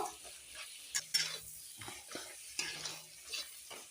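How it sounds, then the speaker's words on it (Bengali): Crabs being stirred into spices and fried in a pan, soft sizzling under a series of close, intermittent spatula scrapes and clinks against the metal, fairly quiet with no talking. "সমস্ত মশলার সঙ্গে ক্যাংড়াগুলো মিশিয়ে নিচ্ছি, সুন্দরভাবে কষিয়ে নেব"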